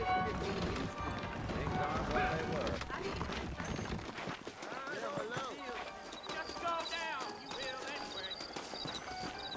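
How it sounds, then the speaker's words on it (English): Rapid hoofbeats of galloping horses in Red Dead Redemption thud steadily under a synthetic game soundtrack and speaking voices, fairly close and continuous. "I got the horses saddled up and ready out front"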